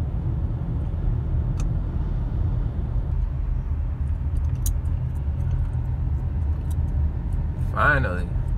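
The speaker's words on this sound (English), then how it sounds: "getting through this stupid ass traffic" Road traffic on a Georgia highway heard from inside a moving car: a steady low rumble of engine and tire noise, continuous and fairly loud throughout.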